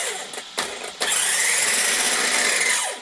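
An Absima electric RC car motor driving forward at about half throttle, a rising high whine that starts with a couple of short bursts and then holds loud and steady before easing off at the end.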